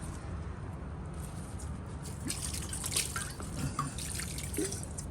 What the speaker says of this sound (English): I'm going to water my plants.